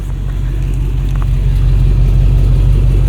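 A 2000 Lexus LX 470 with about 300,000 miles and its muffler removed idles loudly. The engine drones with a deep, steady exhaust rumble close by and does not change through the clip.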